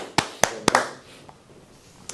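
A few people in a classroom give a short burst of hand claps, three or four sharp claps up close, then quiet room tone and one last clap.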